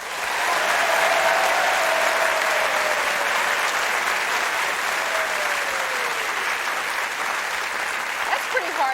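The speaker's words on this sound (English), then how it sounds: "clap your hands right now." A late-night talk show studio audience claps heartily in a sustained, even burst lasting several seconds, dense and fairly close.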